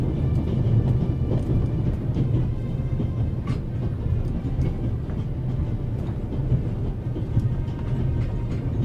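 A moving train in the video game The Raven Remastered rumbles with a steady, heavy low drone and faint rattling clicks throughout, loud and continuous with no talk over it.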